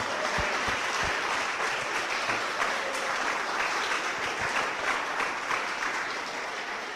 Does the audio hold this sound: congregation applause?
yes